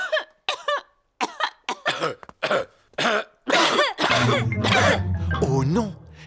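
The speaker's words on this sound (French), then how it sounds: "C'est à présent au tour des adultes d'attraper la toux de Pedro." Adult cartoon characters in a French Peppa Pig episode cough in a series of short, sharp bursts, several voices one after another, then build into a denser, overlapping fit of coughing with throat clearing near the end.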